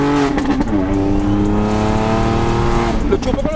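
Modified Ford Fiesta ST engine revving steadily with turbo whoosh, loud and close, held at constant high revs throughout.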